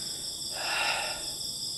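A voice imitates a single big, breathy exhale inside an abandoned mansion at night, a soft rush of air rising and fading over a steady background of chirping insects.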